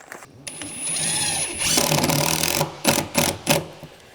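A power driver runs screws made of stainless steel into wall studs, with a high whine, then a sustained motor buzz and three short, sharp, close bursts at the end.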